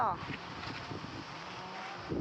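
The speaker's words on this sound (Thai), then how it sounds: "อยู่นี่ได้ลมพัดดี" Wind blows outdoors in a steady broadband rush across the microphone, sustained throughout and fairly strong, with people talking underneath it.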